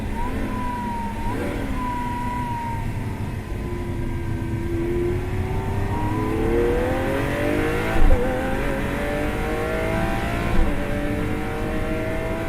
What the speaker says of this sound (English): if you lower the back window, you hear the full song of that V12